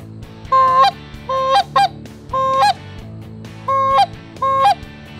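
A Canada goose flute call imitates honking: six loud, sharp two-note honks in an uneven rhythm, separated by short pauses.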